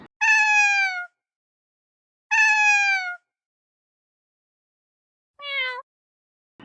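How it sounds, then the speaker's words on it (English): Three clear cat meows, the first two long and drawn out, the last shorter and higher, separated by silence. "C for cat."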